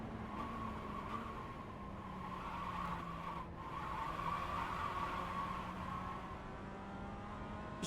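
A Mazda MX-5 Cup race car in the iRacing simulator sliding at the Charlotte Roval, a steady engine drone with a continuous tire scrub and squeal running throughout at even loudness, with no talk.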